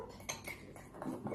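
A child beats a raw egg white into about 30 millilitres of liquid in a bowl, the utensil clinking and scraping against the sides in quick, uneven strokes, close and fairly quiet, with no talking.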